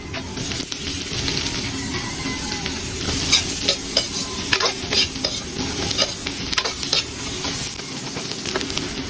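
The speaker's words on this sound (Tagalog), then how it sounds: "nagisa na tayo ng sibuyas, luya at syempre yung ating bawang" Onion, ginger and garlic sautéing in a pan for a pares-style soup, a dense steady sizzle with repeated scraping stirs of a utensil throughout, close and without any talking.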